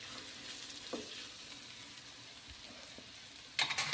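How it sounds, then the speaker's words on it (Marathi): A soft, steady sizzle comes from spices being sautéed with onion in a pan for sambar, quiet throughout until a louder burst of crackling near the end. "तर एक 5 मिनिट आपण व्यवस्थित मसाले यामध्ये परतून घेणार आहोत."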